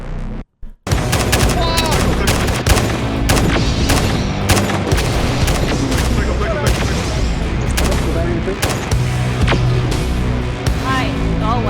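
Video game gunfire from a crowded multiplayer survival game set in an endless IKEA store: dense, continuous bursts of rapid shots and booms, with a brief silent gap near the start, mixed with voices and game noise.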